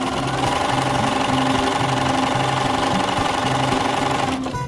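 A sewing machine stitches a zigzag close to the edge of a piece of fabric, running with a loud, steady mechanical chatter and a fast regular beat, alone, before stopping at the very end.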